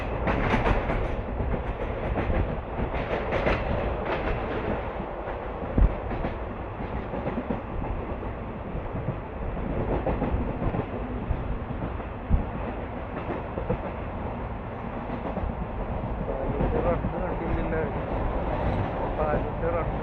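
A train runs on the line from Irinjalakuda to Palakkad Junction, a steady loud rumble and rattle of carriages with occasional clicks of wheels over rail joints, continuous throughout.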